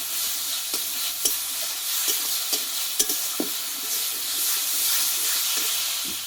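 Spice paste frying in a pan for a Bengali kochu (taro) dish, with a steady sizzling hiss and periodic scraping taps of a spoon stirring it.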